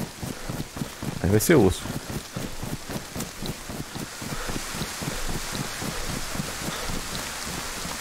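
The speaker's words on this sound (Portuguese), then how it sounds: "E a chuva tá grande, mano." Heavy rain falls steadily in the survival video game DayZ, a constant hiss punctuated by regular soft footstep-like thuds, with someone speaking briefly near the start over it.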